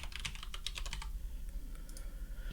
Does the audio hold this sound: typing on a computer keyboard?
yes